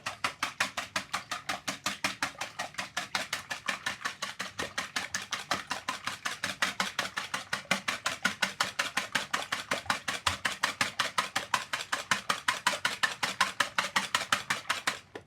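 Eggs beaten briskly in a bowl with a whisk or fork, a steady fast train of sharp rhythmic clicks against the bowl running continuously without pause, close and clear with no talking.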